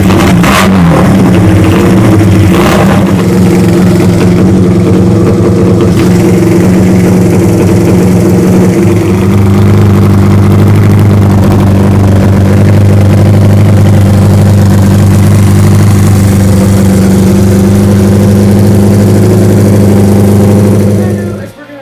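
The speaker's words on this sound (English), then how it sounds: "What we're going to do is fire up and warm her up." A motorcycle engine firing up and warming up, a loud steady low rumble that holds a constant idle throughout with a brief rev near the start.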